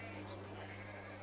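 Sheep bleat in a short, continuous, fairly loud wavering cry over a steady low hum, with no talking.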